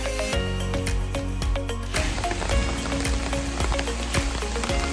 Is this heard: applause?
no